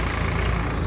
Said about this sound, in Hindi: तो भाइयों ट्रैक्टर चल दिया है